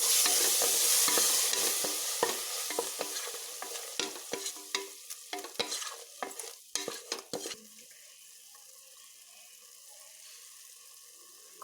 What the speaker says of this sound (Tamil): சேர்த்துக்கிட்டு நல்லா கிளறி விட்டுக்கோங்க.